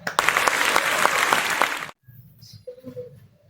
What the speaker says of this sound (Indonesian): Beri tepuk tangan untuk kita semua.